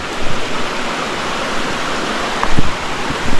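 Steady rushing roar of a waterfall in a mountain valley stream, a dense broadband wash of falling water with a few louder splashes, no voices.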